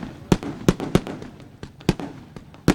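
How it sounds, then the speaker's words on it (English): Fireworks burst over a speedway's victory lane after a Friday night race, sharp loud bangs arriving in an irregular sequence of about seven reports, each echoing slightly, with crackling in between. "What a display there tonight from Lone Wolf Fireworks."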